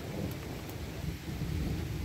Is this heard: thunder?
yes